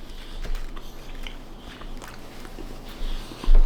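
Someone bites into and chews a Burger King burger bun, close soft crunching and mastication with a few sharper bites, wet mouth sounds between.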